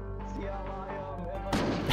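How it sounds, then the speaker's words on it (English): An explosion from a thrown grenade in the survival video game Unturned, on a desert map: a loud, broad boom that breaks out near the end, over a steady game soundscape with tonal music or ambience. "Oh wait, is he gonna throw a grenade?"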